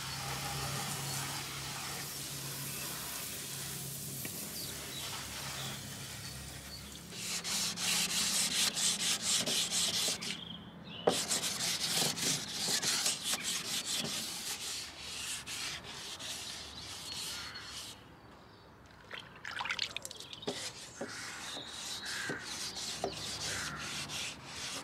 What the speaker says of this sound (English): let's start wet sanding